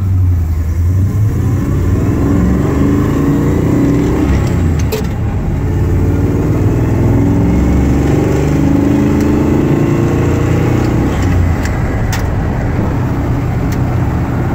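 Engine of a 1984 Chevy pickup truck pulling away and accelerating, a loud continuous low rumble that holds steady for the whole stretch, close up with no talk.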